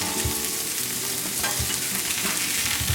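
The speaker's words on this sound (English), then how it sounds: "I'm cooking it on low heat just to make sure that the meat cooks well." Chorizo longaniza slider patty frying on low heat in a pan, giving a steady close sizzle with soft crackles and pops throughout, no voices.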